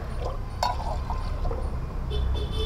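Green pani puri water with ice is poured into a glass, giving soft trickling and splashing liquid sounds with a few sharper drips, close and fairly quiet over a low background hum.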